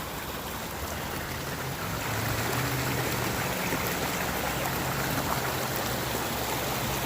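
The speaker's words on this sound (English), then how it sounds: "Love this creek." A boulder-strewn creek rushes in a steady, broadband wash of flowing water, close by and continuous, growing slightly fuller after the first couple of seconds. No voices.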